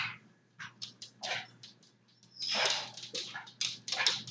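Dogs whimper and yip in a kitchen, a string of short, high, whiny bursts at an uneven pace, close and fairly clear, with no talking.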